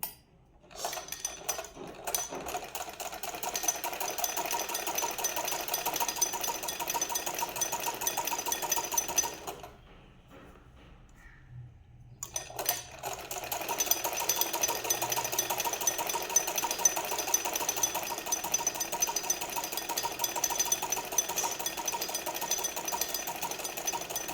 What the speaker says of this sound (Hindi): अब हम दूसरे साइड के साइड की सिलाई करेंगे।